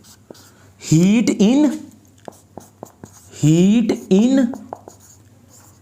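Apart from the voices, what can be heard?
writing by hand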